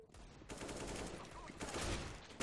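Rapid bursts of gunfire in a CS:GO match, loud and dense across the whole moment, with a faint voice underneath.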